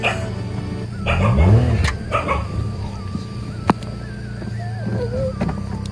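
A dog barks and yelps a few times amid steady background noise and traffic, followed by fainter whimpering sounds.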